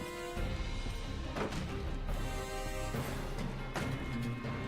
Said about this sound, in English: I shouldn't kick glass. That's a bad idea.